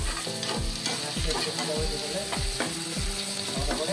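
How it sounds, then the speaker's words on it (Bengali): Food being stirred in a frying pan at home, a spoon scraping and clacking against the pan in a steady repeated rhythm over a constant close sizzle, no voices. "হালকা করে নেড়ে দিই।"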